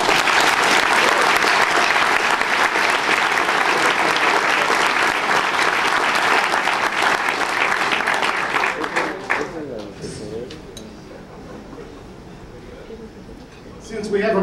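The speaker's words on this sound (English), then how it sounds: "Let's share a round of applause for John." Banquet audience claps in a loud, sustained round for an honoree, the applause running about ten seconds before dying away, leaving quieter room sound and a brief voice.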